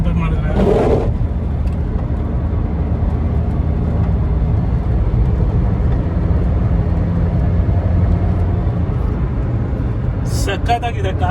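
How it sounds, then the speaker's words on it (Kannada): Maruti Suzuki Swift VDi diesel hatchback under way, a steady low engine and road drone with muted cabin noise while the car pulls forward, constant throughout, with brief bursts of other noise near the start and end. "ಪವರ್ ನೋಡಿ ಹೆಂಗಿದೆ. ಇಂಜಿನ್ ಸೌಂಡ್ ಇಲ್ಲ, ಇನ್ಸುಲೇಷನ್ ಇದೆ. ಕಾರ್ ಸುಮ್ಮನೆ ನುಗ್ಗುತ್ತಾ."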